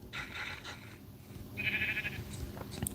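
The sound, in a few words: sheep bleating in a video game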